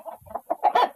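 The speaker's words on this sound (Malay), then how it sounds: "Dengar bunyi anak ayam sebelah." Chickens clucking close by in a backyard coop, a few short choppy clucks in quick succession, loud and unaccompanied.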